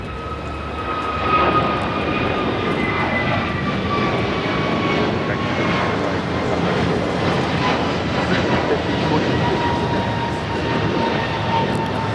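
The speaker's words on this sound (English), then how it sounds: "1526 taking off to Miami, Florida on the A321neo" An American Airlines Airbus A321neo jet takes off at Los Angeles airport (LAX), its engines giving a loud, steady roar that holds throughout with no letup.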